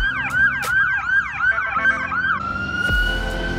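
A loud, close ambulance siren wails in fast rising and falling sweeps, then shifts to a steadier tone near the end with a low thud underneath. No one speaks.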